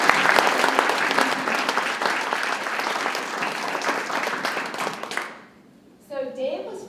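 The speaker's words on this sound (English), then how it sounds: "I'd like to give a round of applause for..." Applause from an audience at a centennial kickoff panel, loud sustained clapping that fades out near the end before a voice begins speaking.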